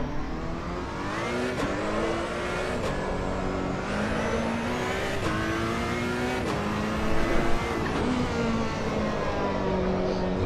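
A race car lapping in Assetto Corsa EVO, its engine revving steadily up and down through gear changes in a continuous, fairly loud drone with repeated shift points.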